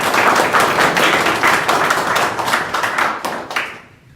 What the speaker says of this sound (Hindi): अरे खुद के लिए ताली बजाओ जोर से।